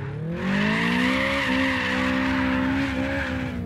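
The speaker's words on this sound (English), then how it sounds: "So there is drift racing in this." Car tires skid and squeal in a drift race in the video game Apex Point: one sustained, loud, wavering screech that lasts over three seconds, with engine rumble underneath.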